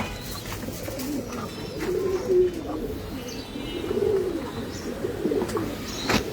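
Sensi pigeons at Azad Bhai's pigeon farm in Mirpur 13 coo in soft, low, rolling phrases that rise and fall over a steady murmur, with the odd faint chirp.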